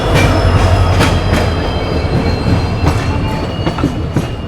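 A train rolls through Balharshah railway station, its steady broadband rumble and repeated wheel clacks close and loud throughout, with faint high squeal lines above.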